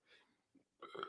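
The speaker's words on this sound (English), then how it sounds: "I'm officially gonna burp" A single person's burp, quiet and close, starting with a faint breathy sound and rising to a short voiced belch at the end.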